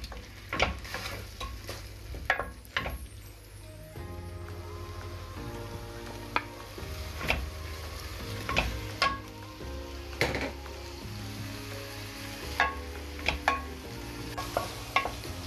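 Shrimp and calamari fry in a pan with a steady, close sizzle while a utensil stirs them. Sharp scrapes and clicks against the pan break through at irregular intervals, and there is no talking.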